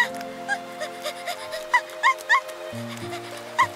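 A cartoon puppy from a children's animated bus series barks and whimpers in a string of short, high yips and whines over a sustained musical background, with no speech.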